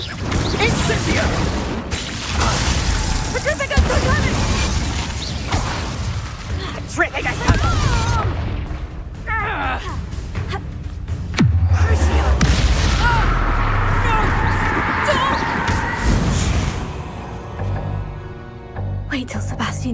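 Incendio fire spell blasts during a Rookwood boss fight in Hogwarts Legacy, heavy booming bursts and whooshing flames layered over game music and combat effects, with a voice talking over the mix.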